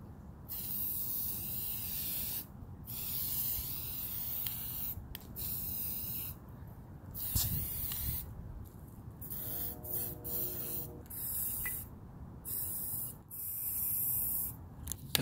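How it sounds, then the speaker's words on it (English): Spray paint can hissing onto a Nintendo Switch Pro controller shell in repeated bursts of varying length, separated by short pauses, close and moderately loud, with no talking. "I have my spray paint here, so I'm going to start shaking it up, and we're going to go ahead and spray all that stuff."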